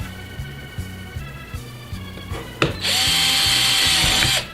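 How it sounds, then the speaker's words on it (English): A power drill bores holes through a plastic Coleco Adam data pack tape cassette near the capstan spot; after a few soft rhythmic mechanical clicks, the drill whines loudly and steadily for about two seconds, close up, with no talk. "we're going to drill some holes in it, right where the capstan is supposed to go"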